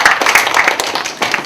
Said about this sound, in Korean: 정말 풀었으면 박수 한번 쳐줍시다